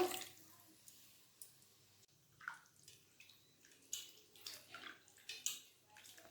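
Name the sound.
washing chicken pieces in water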